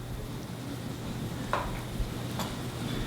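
Andouille sausage sizzles in a hot pan with a faint, steady hiss, broken by a couple of soft clicks from a utensil.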